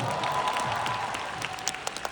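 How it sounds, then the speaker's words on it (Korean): An audience at a fan meeting applauds in a steady patter of many hands, moderately close, with a faint tonal whine and a few louder claps near the end. "박수 한번 주세요."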